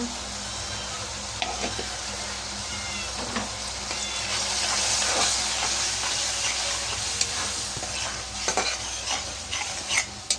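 Pangas fish fries in a pan with turmeric and chili powder, giving a continuous close sizzle broken by scraping stirs and light utensil clinks.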